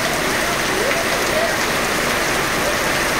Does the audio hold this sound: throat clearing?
no